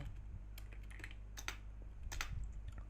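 Computer keyboard keys pressed at a desk, a few sparse clicks and taps close by over a low electrical hum, with no talking.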